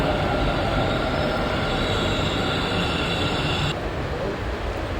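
A Bangalore metro train at the platform gives a loud rolling rumble with a high whine and wheel squeal, which cuts off abruptly near the end and leaves quieter station background.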